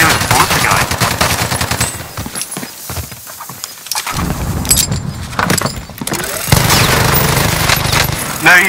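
Rapid bursts of gunfire from a first-person shooter game, loud and dense, crackling through most of the stretch with a short lull partway and no speech over it.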